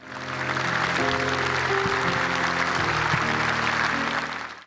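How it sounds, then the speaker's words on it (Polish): Sustained applause fills the Polish Sejm chamber, a dense, steady roar of many hands clapping at once that swells in and holds evenly before tapering off at the end. "Papieża ponownie oklaskiwano po blisko 24 latach od momentu, kiedy wygłosił przemówienie w polskim Sejmie."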